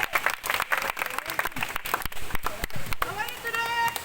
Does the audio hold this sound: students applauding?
yes